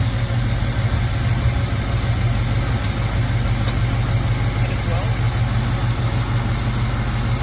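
A 1968 Mercury Cougar engine idling, a steady loud low rumble held close throughout, with a brief voice over it.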